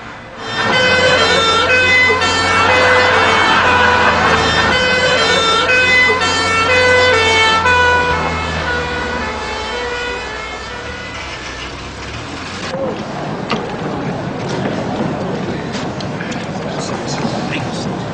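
A wailing ambulance siren sounds loud and close with a steady, strongly pitched tone over a vehicle engine, then drops away partway through and leaves rumbling traffic noise behind.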